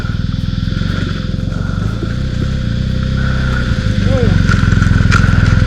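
A BMW R1250GS adventure motorcycle rumbles steadily along a dirt fire trail, its engine loud and close with clattering gravel, the revs rising toward the end.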